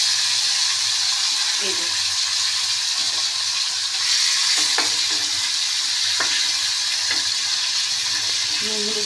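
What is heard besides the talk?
bata fish frying in hot oil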